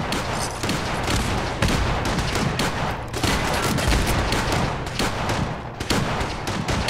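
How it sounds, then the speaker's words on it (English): Fallout 4 video game combat, a sustained barrage of rapid gunfire bursts and booming explosions, loud and dense with no talking. "Should I be concerned about all of these explosions?"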